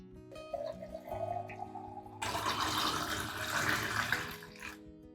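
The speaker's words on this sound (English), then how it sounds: "Add 1 liter of clean water to dilute the solution." Water pours steadily into a container, one liter diluting a rice-based plant nutrient solution, a soft trickle swelling into a fuller rushing flow before stopping.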